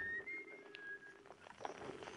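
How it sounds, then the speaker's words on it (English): A short melodic whistled tune, a few thin sustained notes rising and gliding, heard over a quiet background with soft clicks, fairly faint and with no talk. "I like the whistling."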